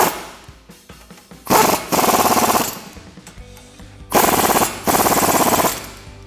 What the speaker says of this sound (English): And then you can put your impact gun on the other side and tighten those down.